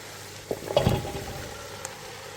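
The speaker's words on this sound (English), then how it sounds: "Okay, those onions are about ready. So we're gonna add the potatoes" Potatoes are dropped into sizzling onions in a pot for corn chowder, a short clattering thud over a soft, steady frying hiss.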